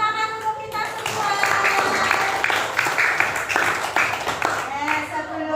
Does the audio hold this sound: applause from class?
yes